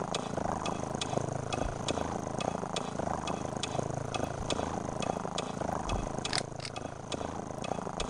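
A cat purrs in the Theresa Duncan adventure game Zero Zero, a steady, close, continuous rumbling purr running throughout with a faint regular ticking beneath it, no voices over it.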